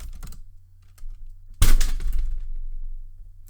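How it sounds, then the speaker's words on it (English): Goats banging against a door produce a sudden loud thump with a rattling crash, then a lingering rumble and low background hum. "That's my goats banging at the door."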